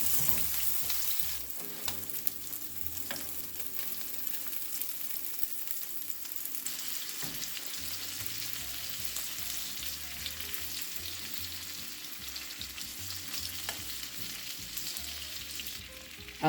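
Salmon fries quietly in an oiled pan for garlic butter salmon, giving a continuous soft sizzle and crackle with occasional faint pops, and no voices throughout.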